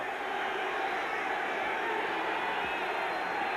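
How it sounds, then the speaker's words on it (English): A football stadium crowd roars and cheers in a steady, dense wash of noise that stays constant and fairly distant throughout. "This crowd is pumped up."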